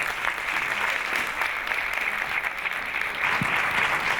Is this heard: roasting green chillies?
no